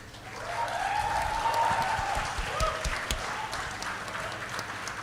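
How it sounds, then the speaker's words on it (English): An audience at a college event in Mumbai applauds for second-year media students, a dense sustained wash of clapping that swells and then slowly tapers, with faint voices underneath. "A big round of applause for our current second-year"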